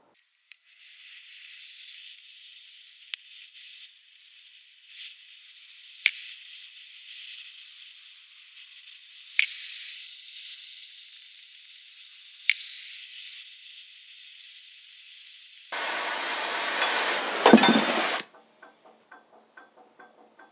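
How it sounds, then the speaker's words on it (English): A cutting torch slices through worn plow steel on a three-bottom plow, a steady loud hissing roar with sharp pops and crackles, swelling into a heavier rushing burst near the end before cutting off to faint ticking. "I will cut this on the torch and then I will weld it on these new parts."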